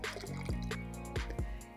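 Chai concentrate is poured into an iced pumpkin chai drink, making a close, gurgling trickle of liquid with a few glugging drips, moderately quiet and with no talking.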